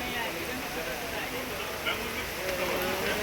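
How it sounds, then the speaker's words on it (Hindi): Rain falls in a steady broadband hiss with some crackle, continuous throughout, while a voice speaks over it. "अभी देख सकते हैं बारिश किस तरह से बारिश हो रहा है"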